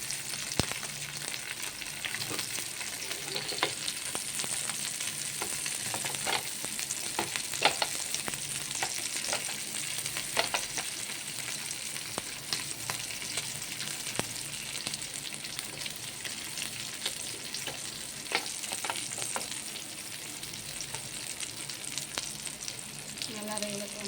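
Kumula and vela fish frying in a pan, a loud steady sizzle and crackle that runs through the whole stretch, with scattered spatters and stirring clicks.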